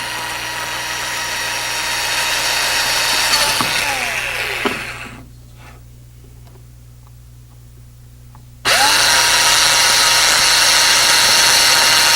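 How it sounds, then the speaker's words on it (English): A power drill boring clearance holes for screws whirs steadily, its pitch rising and falling as it bites, cuts off for a few seconds, then starts again at full speed. "Now I'm going to drill 2 holes and drive 2 screws and attach it together."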